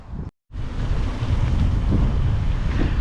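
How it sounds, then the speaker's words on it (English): Wind roars continuously over a motorcyclist's helmet microphone on a ride toward Okehampton, a loud, broadband rushing after a brief dropout near the start. "It is windy"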